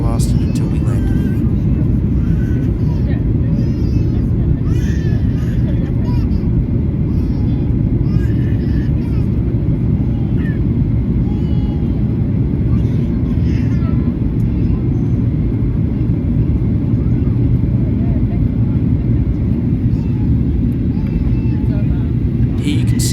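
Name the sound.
aircraft cabin noise during a rough flight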